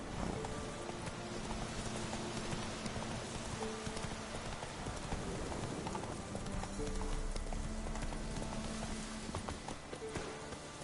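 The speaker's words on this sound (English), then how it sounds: "Whoa there, Roach." Horse hooves clip-clop steadily in The Witcher 3 video game, a continuous rhythmic trot heard close up over a soft rainy background.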